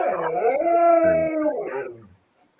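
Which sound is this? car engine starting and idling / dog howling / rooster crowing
dog howling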